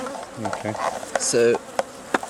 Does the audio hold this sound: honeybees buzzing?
yes